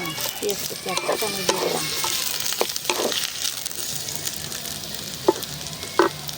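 Chopped onion and green chilli fry in a pan for a fish dish, a steady close sizzle broken by a few light stirring clicks and scrapes.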